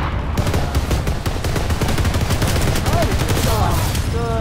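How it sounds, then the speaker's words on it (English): Rapid automatic gunfire crackles through a firefight near ground level in PlanetSide 2, with dense, continuous bursts of shots layered with distant weapon fire throughout. "Good firefight"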